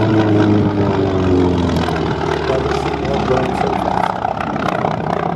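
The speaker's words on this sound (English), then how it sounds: "Here comes a Wildcat at very high speed." Grumman Wildcat warplane passing at high speed during a Flying Legends air display, a loud steady propeller and engine roar with pitch sliding down as it goes by.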